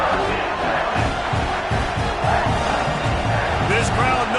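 Football stadium crowd at Clemson roars steadily and loudly in a big moment of the game, a dense continuous wall of cheering with a commentator speaking over it.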